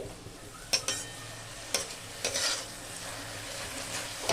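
Methi greens are stirred with milk and salt in a pan, several sharp scrapes and knocks of a utensil against the metal over a low sizzle, close by and free of talk.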